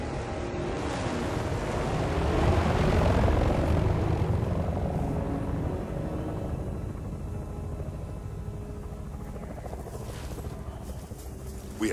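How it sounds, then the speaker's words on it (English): Russian military helicopters in the video game Battlefield Bad Company 2, a broad loud rotor and engine roar that swells and then slowly fades into a steady distant drone. "Look out! Russian choppers."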